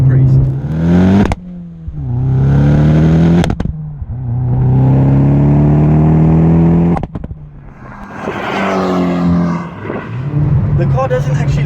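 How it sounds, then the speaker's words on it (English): A Vauxhall Corsa OPC driven hard, the engine loud and close, revving up through several gears with sharp pops between shifts and a rising, raspy howl. "Now this car is pretty fast."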